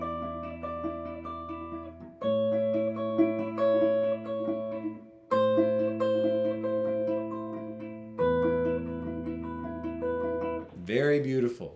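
The Last of Us theme melody in a melodic minor flavor, carried by a sustained tonal line over supporting harmony notes, played in four phrases with brief breaks between them and a short tonal flourish at the end.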